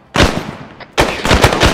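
Two loud close bursts of automatic gunfire from a military shooter video game, the first short, the second a longer rapid volley after a brief pause.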